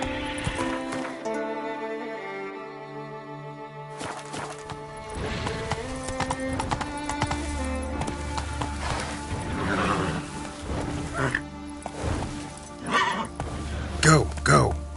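Roach the horse in Witcher 3 gallops with steady clip-clop hoofbeats and lets out neighs and whinnies, set against layered game music and effects with talk in places.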